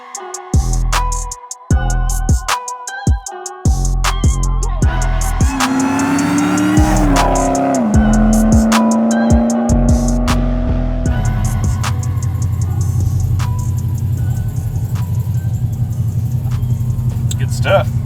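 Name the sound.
900whp Dodge Demon accelerating in a highway pull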